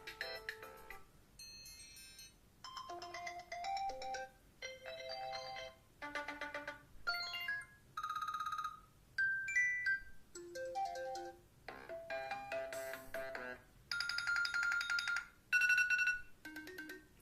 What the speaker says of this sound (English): And this is of course ringtones just for iOS 7.